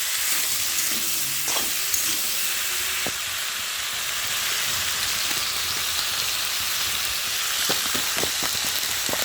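Spices with ground cumin and minced ginger frying in a pan for a prawn curry with taro and potato, a continuous hissing sizzle like light rain, with scattered soft clicks and taps of stirring.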